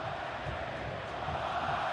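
A football stadium crowd at an Argentina–Brazil World Cup qualifier lets out a sustained, dense wash of whistling and jeering aimed at the referee, steady and loud throughout with no voices standing out.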